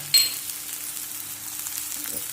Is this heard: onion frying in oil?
yes